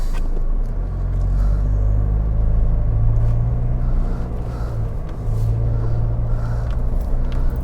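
A car driving through Sydney toward the Pacific Highway, heard from inside as a loud, steady low road rumble and engine drone with slight swells, no talking.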